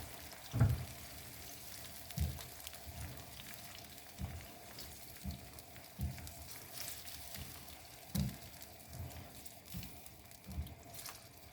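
Cajun-seasoned fish fries in a pan, a steady soft sizzle with scattered thumps and scrapes as the pieces are stirred, fairly faint throughout.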